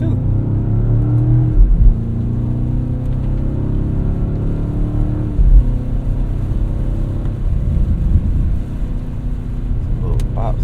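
2025 BMW M5 Touring with a hybrid V8, driven in all-wheel drive on slippery roads, gives a few short exhaust pops over a steady, loud engine rumble inside the cabin.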